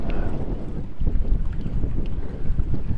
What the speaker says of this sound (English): It's breezy.